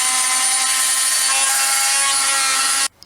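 An angle grinder stripping paint from a bicycle frame, running as one loud, steady, high-pitched grinding whine close by for nearly three seconds before cutting off abruptly.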